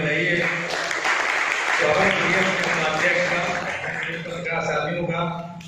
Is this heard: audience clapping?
yes